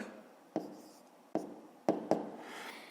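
A pen or marker taps and scratches while writing out a fifth-grade math exercise, four distinct sharp strokes spaced unevenly over a quiet room background, close and fairly soft, with no talk.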